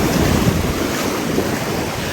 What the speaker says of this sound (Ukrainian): такі хвилі, я думала, буде штіль.